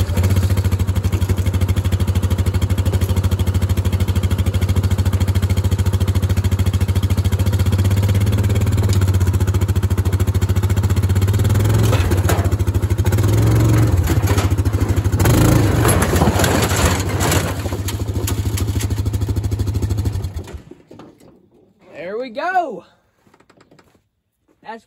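Junkyard Briggs & Stratton 26 hp Intek V-twin engine in a vehicle driving in low gear, a loud steady low drone running for about twenty seconds with clatter and rattles near the end before it cuts off, followed by brief faint talk.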